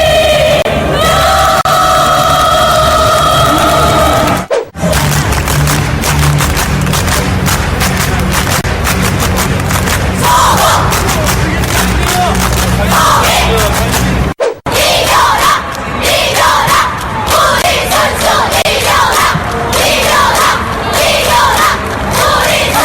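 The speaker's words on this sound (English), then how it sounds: "North Korea's cheer squad cheering for the Korean women's hockey team." North Korean cheer squad roaring at an Olympic women's ice hockey game, a dense, loud crowd of rhythmic cheering and chanting that fills the whole span, broken by two brief cuts.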